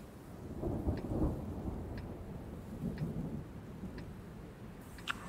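Steady rain hisses under low rumbling thunder that swells near the start, with faint ticking drops scattered throughout and a sharp tap near the end.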